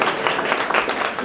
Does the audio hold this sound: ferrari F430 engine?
no